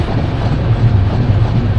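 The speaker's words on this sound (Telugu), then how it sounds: "ముంబై LTT నుంచి కోయంబత్తూర్ వరకు వెళ్ళే ఎక్స్ప్రెస్ ట్రైను" An express train running from Mumbai LTT to Coimbatore rolls past close by, a loud, steady low rumble of wheels and carriages with no voices.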